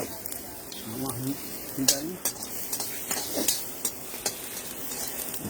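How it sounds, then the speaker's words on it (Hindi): Tomatoes sauté in a pan with a light sizzle under repeated sharp clinks and scrapes of a utensil stirring against the metal, with a voice speaking briefly. "तो बिल्कुल टमाटर भी सौते हो गया है।"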